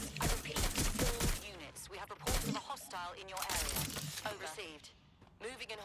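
Gunfire at a target in Watch Dogs Legion, rapid bursts of shots mixed with someone talking over the game, dense and loud throughout.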